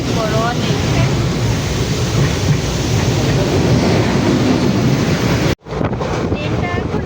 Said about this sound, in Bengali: ট্রেনটা এখন এতই স্পিডে ভাগাচ্ছে